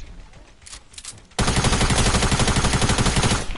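Tactical SMG fire in a video game: after a quieter opening with faint clatter, a loud, rapid continuous burst of automatic shots rattles steadily to the end.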